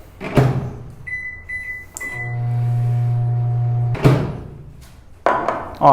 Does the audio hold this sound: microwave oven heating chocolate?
yes